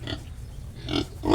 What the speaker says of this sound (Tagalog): Ganyan ang mga native na baboy.